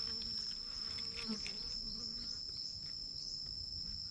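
Ground-nesting bees buzz steadily around their nest hole in open ground, a continuous close insect drone with individual buzzes passing nearby and no talk.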